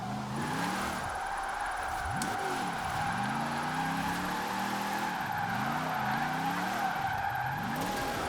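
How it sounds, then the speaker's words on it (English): A drift-tuned Hot Wheels car sliding in Forza Horizon 4, a sustained loud tire squeal over an engine that repeatedly revs up and drops back. "This thing could very well be a really, really good car to drift with."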